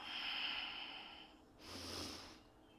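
Steady audible breathing during a yoga high lunge in a vinyasa flow, a long breath followed by a second one, close and moderately soft with no talk over it.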